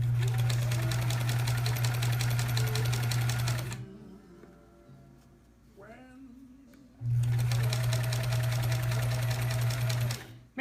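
Sewing machine stitching a quilt block, running in two long steady bursts of rapid whirring with a pause in between where a voice speaks softly.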